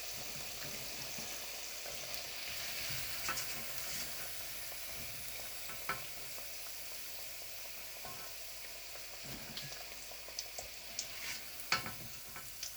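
Chicken pieces fry in oil during chicken fruity cooking, a soft, steady sizzle with scattered small pops and crackles. It is fairly quiet and heard alone, with no talking.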